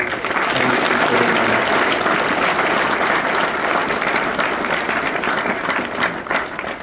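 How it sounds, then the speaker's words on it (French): Crowd at a public event bursts into loud, sustained applause for Karamo Sangaré, a thick continuous roar of clapping that holds steady and tapers slightly at the end. "Applaudir pour Karamo Sangaré"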